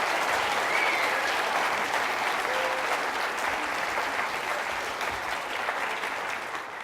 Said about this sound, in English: How about a round of applause for all of our wonderful presenters?